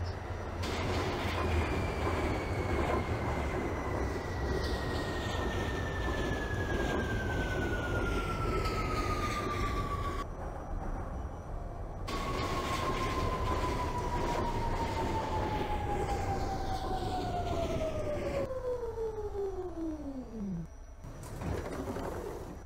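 An R46 subway train on a World Trade Center bound C run in the OpenBVE simulator, with a steady rumbling motor and rail roar, a whining tone gliding downward as it slows, and a brief lull near the end before resuming.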